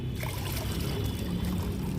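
Plain water pours steadily into a container and is mixed into water for plants, a close, continuous splashing gush that stays loud for the whole moment, with no talk over it.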